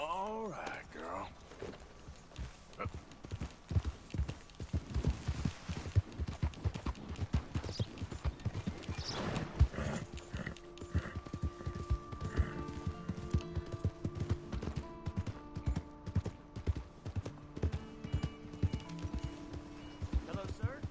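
A horse in Red Dead Redemption 2 trots with steady rhythmic clip-clop hoofbeats, close and clear, alongside a brief neigh near the start and people talking over the hooves.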